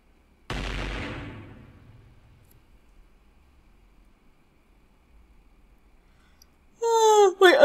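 An explosion in the Hatoful Boyfriend Holiday Star video game: one loud, deep boom that rumbles away over about two seconds, then near silence, then a brief burst of warbling game sound effects.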